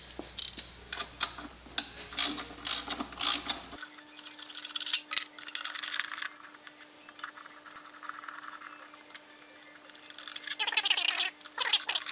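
A hand ratchet works on the air cleaner of a carbureted engine, producing bursts of quick, close ticking clicks separated by short pauses over a faint steady hum.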